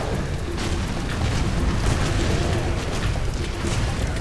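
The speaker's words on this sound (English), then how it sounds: "I just gibbed everything with all of my C4." C4 explosions going off in the shooter game Serious Sam: BFE, a dense continuous rumble of booms and bursts rolling together at loud level with no clear gaps.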